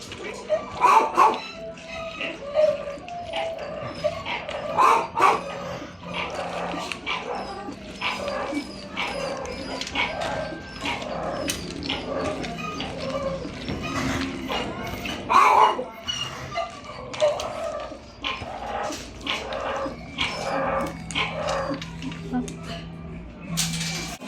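Several dogs bark, yip and whimper excitedly at feeding time, in scattered close outbursts, with a person talking over them throughout.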